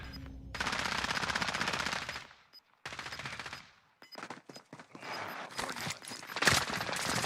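Dense automatic gunfire from the video game Warzone, long rattling bursts broken by short gaps, then scattered sharp shots and more firing, loud and close.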